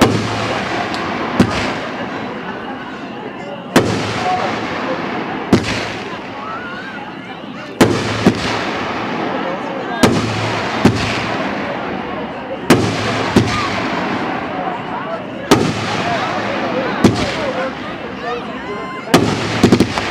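A Sharp Shooter 12-shot firework cake from Biggs, set off at a fireworks demo, fires a rapid series of sharp, loud outdoor bangs at a steady pace, with crackle and a voice murmuring between some of the shots.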